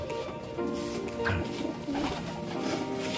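Pigeons coo softly at close range in a loft, low rolling calls repeating over steady background noise.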